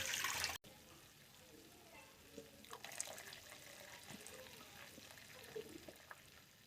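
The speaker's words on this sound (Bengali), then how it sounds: "সর্ষেটাকে জলে ধুয়ে দিচ্ছি" Tap water runs faintly into a sink while mustard seeds are washed, a soft trickle with small splashes and drips after a brief louder burst at the start; a voice murmurs faintly.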